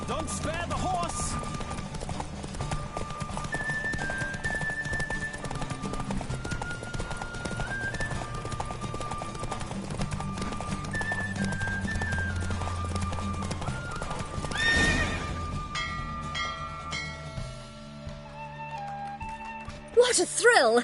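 Galloping horse hooves clip-clop in a steady driving rhythm under music and effects during a race, with a whinny near the end as the pace breaks off.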